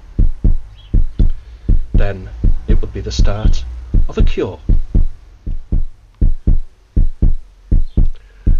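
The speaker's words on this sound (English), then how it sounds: "It played into the room the sound of a beating heart." Steady heartbeat from a Utrecht echocardiometer fills a room, regular thumping pulses running throughout, with someone talking over the middle stretch.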